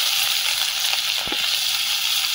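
Five-spice tempering and chopped onion sizzle steadily in hot oil left from frying fish, a dense continuous hiss with a brief stir near the middle.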